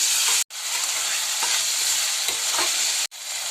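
Fenugreek leaves being stirred in a hot pan, with a loud, continuous close sizzle and soft scraping strokes, cut off by two brief silent gaps.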